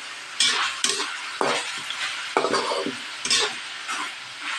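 Pork and chicken pieces for adobo sauté with garlic and onion in a pan. Loud repeated spatula scrapes and clanks, about eight in a row, ride over a bright steady sizzle close at hand, with no voices.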